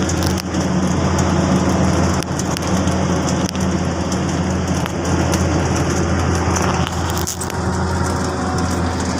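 Heavy rain pours steadily on a farm in Lipa, Batangas, a dense, continuous roar of downpour that stays loud and even throughout with no voices.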